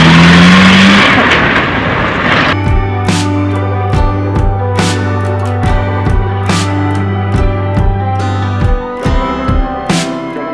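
A government gypsy safari jeep in Pachmarhi rumbles steadily as it pulls away and drives on, its engine drone close and continuous with repeated knocks and clunks over rough ground; no talking.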